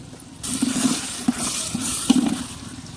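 Vegetables and salt being stirred in a clay pot for Pongal: a steady scraping, sizzling wash with a few louder stirring strokes, close and continuous after a quiet opening half-second.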